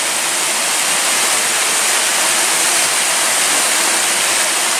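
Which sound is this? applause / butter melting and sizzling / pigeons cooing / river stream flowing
river stream flowing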